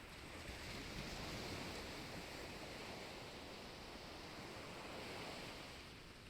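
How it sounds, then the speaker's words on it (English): Ocean waves wash steadily onto a sandy beach in a continuous, even roar of surf, with a little wind noise and no voices. "The path is sandy now, and I can really hear the waves."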